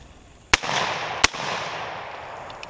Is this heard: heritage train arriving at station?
no